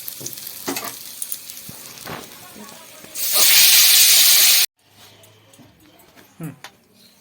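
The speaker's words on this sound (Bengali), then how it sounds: "মাছগুলো ভাজা হয়ে গেছে, তুলে নেব।" Bata fish frying in oil give a sharp, loud sizzling hiss for about a second and a half, then it cuts off, leaving quiet kitchen clatter.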